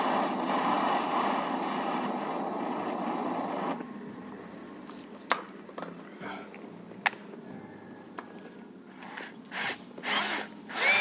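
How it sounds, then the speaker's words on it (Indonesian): A bolt extractor is driven by a power drill on a Megapro 215cc motorcycle engine build, a loud steady whine for several seconds that cuts off, then scattered clanks, taps and short bursts of drilling. "Cuman mau kita coba pakai ini istilahnya, ekstraktor baut gitu."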